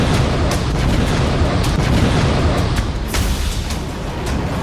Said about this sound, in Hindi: आठ दिन में पहली बार क्लस्टर बम का धमाका